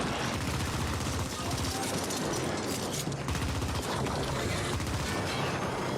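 A grenade blast and gunfire in a sci-fi video game: a dense, loud run of rapid shots and booming impacts that continues throughout, with a voice speaking over the noise.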